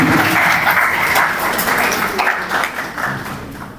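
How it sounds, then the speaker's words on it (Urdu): Audience applause at a creators' conference, loud and dense clapping from a large crowd that gradually eases off toward the end. "آپ سب کی بھرپور تالیوں."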